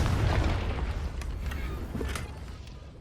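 A Confringo fire spell explodes in Hogwarts Legacy, a deep booming blast that rumbles and fades over a few seconds, with faint crackles trailing off and no voices.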